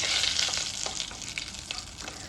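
Curry leaves crackling and sizzling in hot coconut oil in a pan, a steady close fry with small sharp pops and spits, heard alone without talk.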